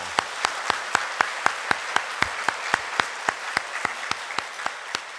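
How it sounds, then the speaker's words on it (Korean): A church congregation clapping in unison, a steady rhythmic beat of sharp, evenly spaced claps about four or five per second, close and continuous throughout. "우리 하나님께 영광의 박수 올리겠습니다"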